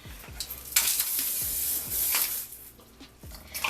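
Hair spray hisses onto a hot-glue-gun glueless wig in several short, close bursts, each a bright airy spray separated by brief pauses and light handling noises.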